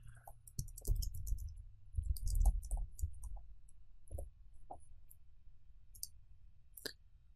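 Typing on a computer keyboard gives a soft, uneven patter of key clicks with brief pauses, ending in a few sharper isolated clicks like a button being pressed, quiet and close with no talking.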